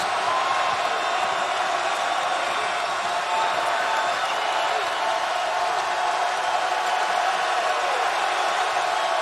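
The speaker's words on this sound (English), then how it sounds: "Crowd is deafening right now" A deafening basketball arena crowd roars without letup at a 2013 Ole Miss Rebels home game against Kentucky, a dense, steady wall of cheering and whooping that fills the space from start to finish.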